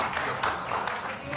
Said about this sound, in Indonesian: Kita beri tepuk tangan yang meriah untuk para calon wali kota dan